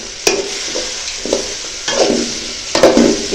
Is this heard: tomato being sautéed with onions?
yes